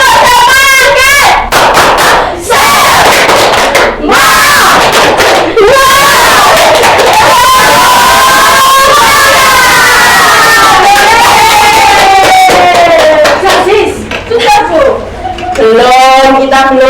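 A primary school class does a rhythmic spirit clap during a teaching session, with many children's voices shouting and chanting loudly over sharp, repeated hand claps in a lively room.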